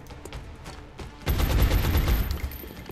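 A weapon fires in XCOM: Enemy Within as a loud, dense burst of rapid shots lasting about a second, standing out sharply from quieter game sound before it.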